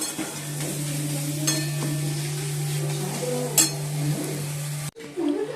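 Taro and potatoes sautéing in a pan for a home-style Bengali curry, giving a steady close sizzle with a low hum underneath and occasional light scrapes of a utensil against the pan.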